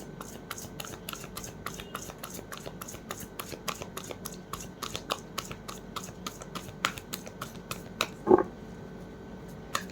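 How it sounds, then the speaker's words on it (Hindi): Tarot cards slap and tumble down in steady, quick soft ticks, close and fairly quiet, with one slightly louder thump near the end. "कार्ड्स ना ऐसे नीचे गिर रहे हैं"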